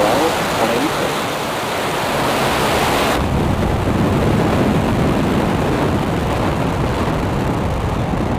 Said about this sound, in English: Ignition. And liftoff Falcon 9, go full go NROL-186.